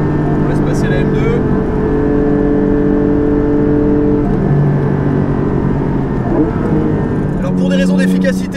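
A Porsche 718 Cayman GT4 fitted with an Akrapovic exhaust drives at Spa-Francorchamps, its engine droning loud and steady with pitch shifts under acceleration and gear changes, while someone talks over the noise.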